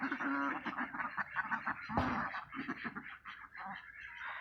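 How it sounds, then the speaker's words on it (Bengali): Two geese honk repeatedly near a railway line, a run of nasal, raspy calls in quick succession, fairly close and moderately loud, with no voices over them. "এই দুটা, হ্যাঁ দুটো রাজহাঁস।"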